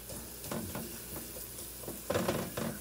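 Onions soften in a pan with a quiet, continuous sizzle as a rubber spatula stirs and breaks them up, making several soft scraping strokes.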